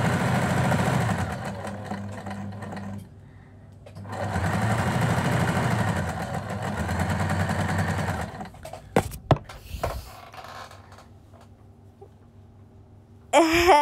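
A sewing machine runs indoors in a steady mechanical whir that stops briefly, resumes, then cuts out, followed by a few sharp knocks and clicks, close and fairly loud.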